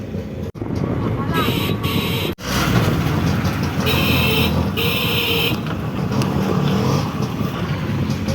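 A car engine starts up and drives off at a petrol station at night, a steady engine rumble that carries under the whole stretch while people talk loudly over it.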